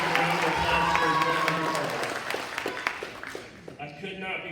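A school crowd at a middle school spring sports assembly claps and cheers in a dense, steady burst of applause that thins out toward the end, with a voice speaking at the start.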